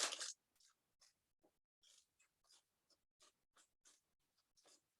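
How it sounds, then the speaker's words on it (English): Baking paper is run around the inside of a cake tin, giving a sharp crinkle at the start and then a string of short, soft rustles and creases at irregular intervals in a quiet room. "I'm going to run this paper around the inside of the tin."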